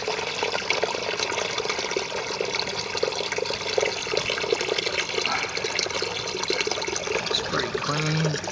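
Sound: water draining from RV fresh water tank

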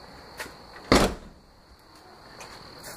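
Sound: DeLorean door closing

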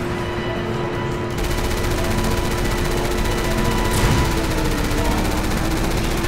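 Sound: gunfire from enemies shooting in video game Resident Evil 6

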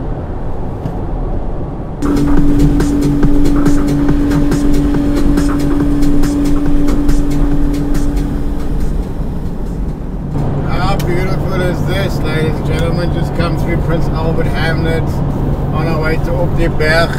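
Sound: Isuzu X-Rider driving on gravel road

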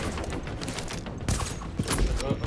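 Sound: sniper rifle gunfire in the video game Tom Clancy's The Division

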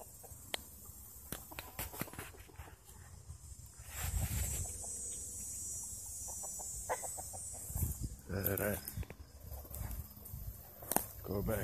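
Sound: roosters and chickens clucking

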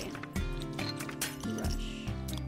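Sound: champagne glass clinking in video game Alicia Online

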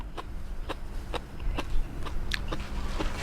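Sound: crunchy food being chewed

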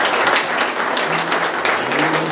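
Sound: church congregation hand clapping in praise

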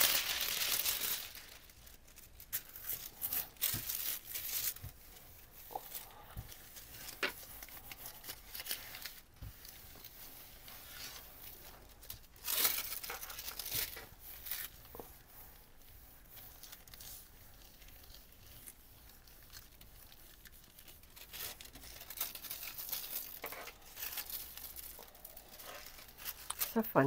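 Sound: deli paper crinkling as it lifts paint

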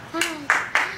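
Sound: applause for children at a music class

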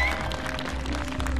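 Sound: audience applause for Nicola

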